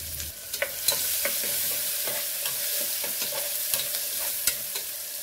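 Onion sizzles steadily in hot oil with asafoetida, cumin and curry leaves in a pan, with a scattering of sharp scraping stirs and spatula clicks over the continuous frying hiss.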